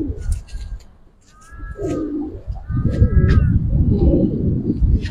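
Giribaz pigeons coo in a loft, a few soft throaty calls rising over steady low rustle and background noise, fairly close, with faint higher chirps mixed in.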